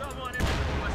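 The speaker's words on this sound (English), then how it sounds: "Put the machine gun in there." Machine gun fire rattles in Company of Heroes 2 during a World War II Ardennes battle: a dense, booming burst of gunfire that swells suddenly and continues loud under the game's battle noise.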